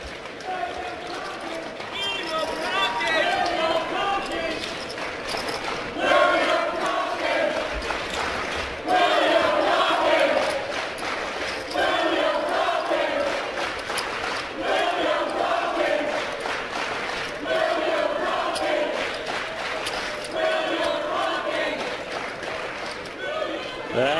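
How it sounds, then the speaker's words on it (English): Poker main event crowd chanting player Will Tonking's name, a sustained rhythmic group chant from a seated audience rising and falling for over twenty seconds, moderately loud and somewhat distant in a hall. "it is something special to have your name chanted"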